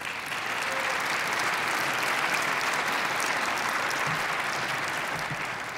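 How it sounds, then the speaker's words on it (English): Audience applause at a downtown Sacramento civic event fills the room, a steady wash of many hands clapping together at an even level throughout, with no voices standing out. "Let's give them a round of applause."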